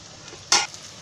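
Onion hits hot oil in a pan with one brief, sharp sizzling burst, close and loud, fading quickly back to a quiet low background.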